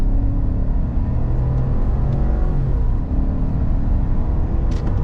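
2026 Chevrolet Silverado 5.3 liter V8 pulling hard from a boosted launch in sport mode with 4-wheel drive auto, a loud continuous rumbling roar that builds steadily, close by with no talk.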